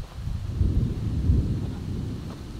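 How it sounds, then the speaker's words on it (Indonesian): Low rolling thunder rumbles through this short stretch, dull and fairly distant, in a long dry season with sudden wind, with no voices over it. "Dan ada suara petir."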